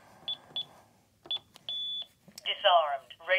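Several short electronic beeps from a Honeywell Lynx L3000 alarm keypad, then a longer steady tone, followed by a brief burst of a voice-like announcement from the device.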